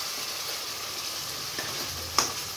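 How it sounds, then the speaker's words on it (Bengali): Fish roe curry sizzles steadily in a pan as it is slowly sautéed, a continuous close hiss of frying with a few soft stirring clicks and one sharp utensil tap near the end. "আস্তে আস্তে কষিয়ে নিতে হবে।"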